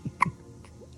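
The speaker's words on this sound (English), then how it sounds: "I got some hiccups here." A baby's hiccups, a couple of short, soft hiccup bursts close to the microphone in a quiet room, with a faint squeaky sound near the end.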